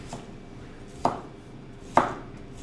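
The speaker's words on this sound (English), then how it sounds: "And then either you can use just a knife and then cut it like this." A knife cuts through a quartered cabbage on a board for sauerkraut, giving two sharp, crisp chops about a second apart over a quiet room background.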